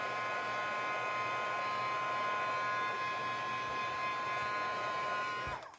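A heat gun blows hot air over stamped paper with a loud, constant whooshing drone and a steady whine that runs unbroken until it is abruptly switched off at the very end.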